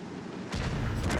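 Object 261 self-propelled artillery firing in World of Tanks, a heavy booming shot that breaks in suddenly halfway through and leaves a rumbling tail, with no voices over it.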